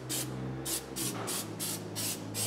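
An aerosol can of Permatex surface prep sprays onto differential gear halves in about seven short, even hissing bursts, close and steady over a low background hum.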